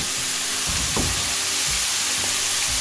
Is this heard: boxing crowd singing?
no